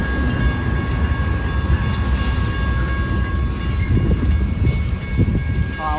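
An eastbound freight manifest train rolls past on the Hannibal Sub, a loud, steady rumble of wheels on rail with faint clicks over the joints, close by and continuous.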